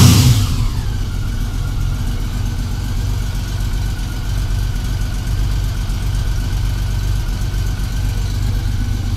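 A 1999 Honda Valkyrie Interstate motorcycle engine idles steadily around 1,000 rpm, a loud, even low rumble that runs unbroken after a brief louder start.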